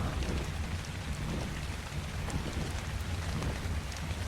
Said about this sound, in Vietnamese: Trời cũng bắt đầu mưa